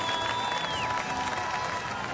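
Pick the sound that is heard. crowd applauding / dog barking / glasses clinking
crowd applauding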